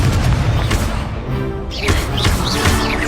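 A loud, dense burst of the Implodo spell in Hogwarts Legacy on PS5 fills the whole stretch: a heavy boom with crashing debris and rumbling, booming hits under busy game effects.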